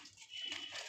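Liquid bubbling and simmering in a pot on the stove, a soft, steady burble with faint watery gurgles, close and quiet, no voices.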